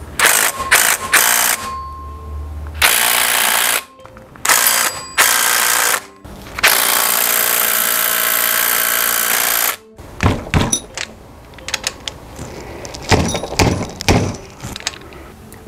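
Impact wrench removing the cylinder studs on a Yamaha Zuma scooter with a 158cc BBK top end rattles in loud bursts of one to three seconds, with short pauses between them, then gives way to scattered clinks of metal parts.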